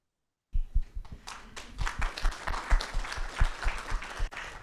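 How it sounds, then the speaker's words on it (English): A conference audience claps after opening remarks. Scattered, sharp hand claps start suddenly after a moment of silence and build into a moderate, uneven round, heard fairly close. "it's okay to clap"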